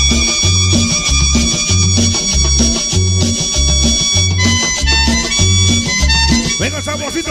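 Accordion leading a traditional cumbia played by a sonido sound system, loud and bright over a steady bouncing bass and percussion beat, with no talk over it.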